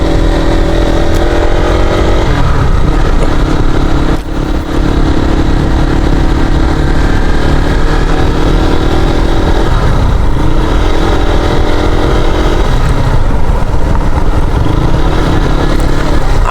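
A motorcycle engine runs loud and continuous during a ride through tea country near Sreemangal, its steady mid-range drone rising and falling slightly as the throttle shifts.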